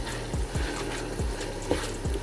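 Chopped green chillies cooking in a pan of masala for chicken biryani, a soft bubbling sizzle with a few low, wet plops and stirs.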